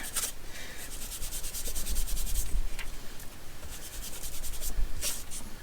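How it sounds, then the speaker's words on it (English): Weathered Wood ink daubed over copy paper, a steady soft rubbing and scuffing with repeated strokes, close and fairly quiet, with no voice over it. "I'm just going to come in and like ink over the top of this with Weathered Wood."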